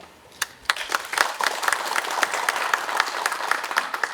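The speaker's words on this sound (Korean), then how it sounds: "뜨거운 박수 한번 주세요" An audience at a lecture event at the Independence Hall of Korea bursts into applause, starting with a few claps and building into steady, dense clapping from many people.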